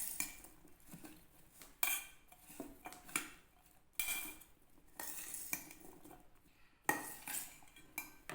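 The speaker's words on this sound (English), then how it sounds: "Mix well." Spicy raw mango salad dressed with coconut oil being stirred in a dish, a spoon clinking and scraping in irregular bursts, close and fairly soft, with no talking.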